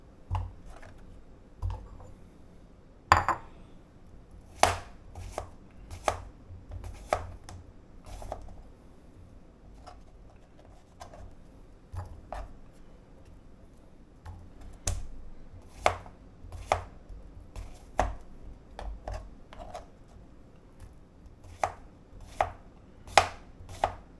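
A knife slices cucumbers by hand on a cutting board, giving sharp irregular taps, some isolated and some in quick clusters, close and clear against a quiet room.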